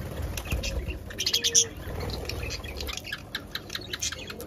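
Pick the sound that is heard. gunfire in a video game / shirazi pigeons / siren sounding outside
shirazi pigeons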